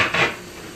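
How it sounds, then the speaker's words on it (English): A metal strainer clatters out from among kitchen pots and dishes while making home-style chili, one brief close rattle of cookware that fades quickly. "let me get my strainer"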